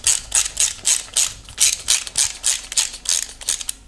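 A ratchet clicks in quick, even bursts while bolts are snugged down on an LS3 engine build, a close, rhythmic mechanical clatter with no talk.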